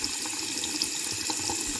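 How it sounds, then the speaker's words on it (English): Running water from a sink tap in a game-engine water tap blueprint, a steady continuous faucet stream with a bright hiss, close and uninterrupted throughout. "I closed the tap, but the audio is still going on, right?"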